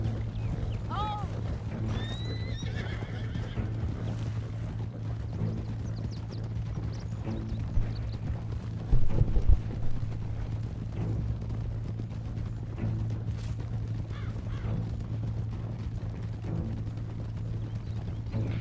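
Steady clip-clop of horse hooves at a relaxed trot in Red Dead Redemption II, moderately close and continuous over a low ambient hum, with a brief cluster of louder knocks partway through.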